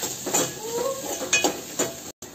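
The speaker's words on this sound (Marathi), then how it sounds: "तो पण तेलात होऊ द्यायचा, आणखी मिक्स करून घ्यायचं।" Grated coconut and onions fry in hot oil in a pan while a spoon stirs them, producing a steady close sizzle broken by several scraping stir strokes.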